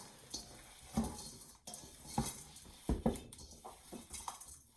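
Oats are mixed by hand into a meat mixture in a bowl, producing quiet, irregular squelching knocks and dull thumps against the bowl, close and soft, with no talking.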